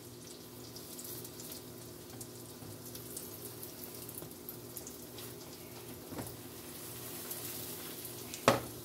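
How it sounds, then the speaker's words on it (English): Faint, steady sizzling of stuffed strawberry French toast frying in a pan, soft and continuous, with a small clatter near the end. "You hear that sizzle?"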